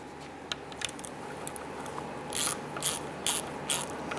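A ratchet tightens a bolt a quarter turn on a 2005-2010 Chrysler 300 during a conductor plate repair, a series of crisp, close clicks, sparse at first and then quicker and louder in short bursts, with no talking.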